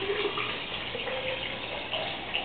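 Water poured or running steadily into an HHO generator setup, a continuous close splashing trickle with no talk over it.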